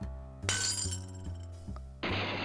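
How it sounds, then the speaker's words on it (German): Glass dishes break in the adventure game Edna bricht aus, with several separate shattering crashes in quick, uneven succession and a final burst of scattering shards, all loud and close. "Potztausend, das ist Glas."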